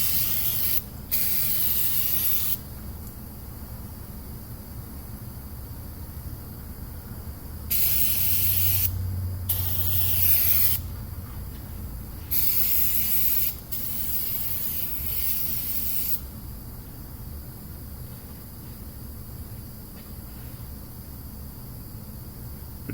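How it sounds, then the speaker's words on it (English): Brake cleaner sprayed from an aerosol can onto the rear pinion of a Ford F150 in short bursts, several hissing sprays of a second or two each separated by pauses, close and clear with no talking. "If you just keep spraying on it, you're really just wasting brake cleaner or whatever kind of cleaner you're using."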